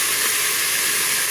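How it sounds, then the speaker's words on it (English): Onion and jalapeno sizzling in a hot pan, a steady bright hiss running unbroken and loud throughout with no voices. "You can hear that wonderful sizzle."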